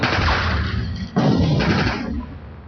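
Battlefield gunfire and artillery from a 1965 India–Pakistan war attack near Akhnoor, a dense continuous roar of shots and blasts with a heavy boom just past the midpoint, loud throughout and fading toward the end.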